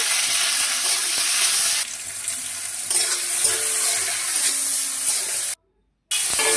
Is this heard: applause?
no